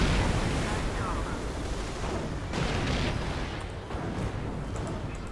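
Artillery shells fire in the WWII strategy game Company of Heroes, a dense, continuous rumble of booming blasts and battle noise with a sharper burst midway, loud and close throughout.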